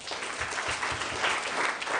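A church congregation claps together in a steady, sustained burst of applause, fairly distant and even in loudness throughout.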